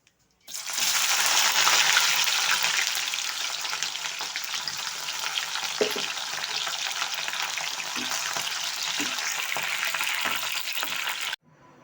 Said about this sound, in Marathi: आता आपल्याला थोडी थोडी भेंडी तळून घ्यायची आहे